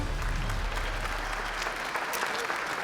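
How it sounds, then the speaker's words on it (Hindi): Loud, steady applause fills the whole stretch as a crowd claps for Devika, a sister-in-law figure in a TV drama scene, with voices mixed into the dense clapping. "देविका भाभी के लिए जोरदार तालियां।"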